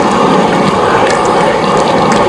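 Steady rushing water poured continuously onto non-woven geofabric, a loud, even splashing hiss with no pauses.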